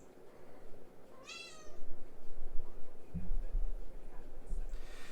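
A pet cat meows once in a bedroom, a short rising-falling cry near the start, then muffled handling and movement noises follow close by, with a faint voice in the background.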